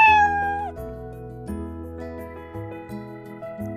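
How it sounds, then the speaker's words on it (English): A stock cat meow effect plays from a Scratch sound block in a programming lesson. It is a single clear, tonal meow that wavers in pitch over several seconds, with no talking. "it should make the meow sound"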